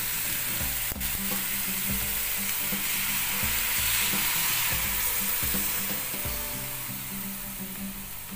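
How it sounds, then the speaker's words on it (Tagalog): Chicken feet adobo sizzles loudly in a pan as soy sauce goes in, a continuous close crackle with scraping, knocking utensil strokes at a slow, uneven rhythm and no voices. "lagyan po natin siya ng soy sauce"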